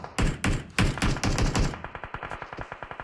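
Rapid video game gunfire in a Turkish-language match: loud bursts of shots in the first half, then a steady, evenly spaced string of lighter shots continuing to the end, with no talk.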